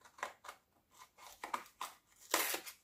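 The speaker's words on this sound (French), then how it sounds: "Je vais essayer d'ouvrir le packaging" Beauty product packaging gets opened with a series of short, crisp snips and tearing rustles, close to the microphone, about eight quick bursts in a loose rhythm, ending in one louder rip. No one speaks.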